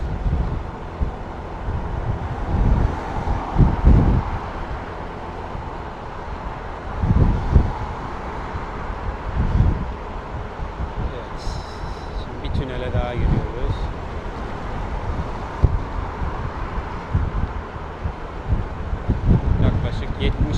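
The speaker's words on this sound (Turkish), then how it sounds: "Sağlam rüzgar var." Heavy wind buffeting a microphone on a riding Honda Forza 250 scooter, in bursts of low rumbling gusts, with someone talking throughout over the rushing noise.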